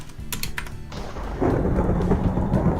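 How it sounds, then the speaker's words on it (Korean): Lightning strikes a pig in Minecraft Education Edition: a short clicking patter gives way to a loud, sustained crackling thunder roar that fills the rest of the moment. "자, 돼지가 나왔고 거기에 번개가 쳤습니다"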